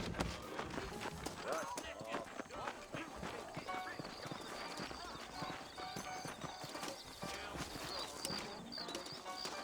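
Horses' hooves clip-clop steadily in the Western video game Red Dead Redemption, set in New Austin, with occasional whinnies over a busy mix of game sounds and talking voices throughout.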